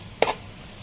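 A knife makes a single short chop through bread for a fruit custard bread pudding, one quick crisp stroke close by in an otherwise quiet moment.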